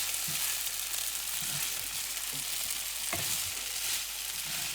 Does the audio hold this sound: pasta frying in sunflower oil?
yes